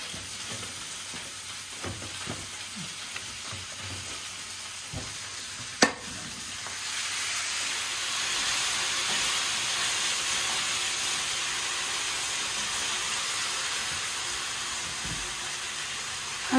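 Slices of bread fry in oil in a pan, giving a steady close sizzle and hiss that swells louder partway through, with a sharp clatter of the pan or utensil.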